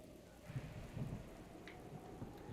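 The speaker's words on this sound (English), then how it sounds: "And it's thunder and lightning outside." Thunderstorm in The Legend of Zelda: Breath of the Wild, steady rain hiss with low rumbling thunder swells throughout, faint and continuous, no voices.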